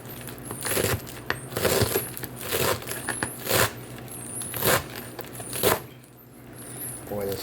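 Knife chopping garlic and parsley together on a board for chimichurri, a series of sharp irregular knocks and scrapes, close and fairly loud, with no talk.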